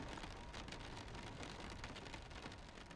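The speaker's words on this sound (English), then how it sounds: "The freaking rain is real loud in this plane" Rain drums loudly and steadily on the cabin of a small Aerobask Epic Victory airplane, a dense unbroken hiss that fills the whole stretch with no voices.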